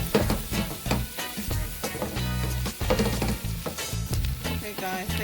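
Onions and sweet peppers fry in a pan on a stove at medium heat, with a loud, continuous crackling sizzle broken by repeated stirring scrapes and knocks against the pan.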